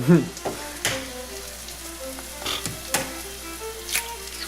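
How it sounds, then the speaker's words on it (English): An egg dropped into a hot pan of 1845-style kedgeree just off the fire, giving a soft sizzle under scattered spoon clinks and scrapes, with a few sharp knocks against the pan. "Oh, we have to throw an egg in it now."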